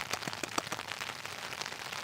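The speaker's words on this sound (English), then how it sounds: "They say you can sleep to the sound of rain falling on top of your top." Rain pattering close overhead on a taut hammock tarp while camping, quick irregular drops tapping over a constant wash of rainfall.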